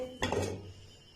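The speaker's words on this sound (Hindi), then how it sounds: "अब एक तवा हमने चूल्हे पे रख लिया है, थोड़ा सा इस पर ऑयल डालेंगे" A griddle pan set down on a stove gives a sharp metallic clatter, and a soft sizzle of oil follows and fades quickly in a quiet kitchen.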